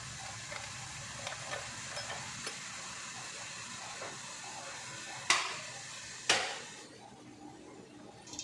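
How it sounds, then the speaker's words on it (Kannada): A spoonful of cumin seeds sizzles in hot oil for an onion pulao, a steady close hiss dotted with small crackles and two sharper pops near the end, with no talking. "ಎಣ್ಣೆಯಲ್ಲಿ 1 ಸ್ಪೂನಷ್ಟು ಜೀರಿಗೆ ಹಾಕ್ಕೋಬೇಕು"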